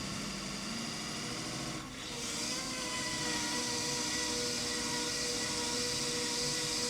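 A wood lathe spins a black walnut bowl with a steady motor hum and whine, a brief dip then rising pitch as the speed is turned up, continuous and close.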